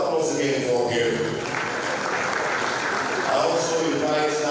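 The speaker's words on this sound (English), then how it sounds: "We celebrate Mr. Round of applause again for him." An audience at a government swearing-in ceremony for new commissioners applauds in a steady, dense round of clapping beneath a loudspeaker voice that carries on throughout.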